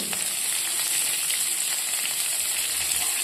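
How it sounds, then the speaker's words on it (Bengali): Whole cumin, dried red chilli, onion and garlic spit and sizzle in hot oil for a Bengali greens dish, a steady, close, bright crackle that holds evenly throughout with no voices. "এবারে ফোড়ন দেওয়া হচ্ছে শাকে। গোটা জিরা দিলাম আর শুকনো লঙ্কা দেওয়া হয়েছে"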